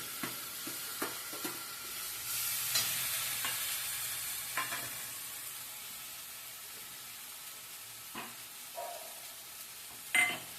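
A pan sizzles steadily with a soft frying hiss as a turmeric and tomato spice paste fries, broken by occasional scraping and stirring clicks, close by and without talk.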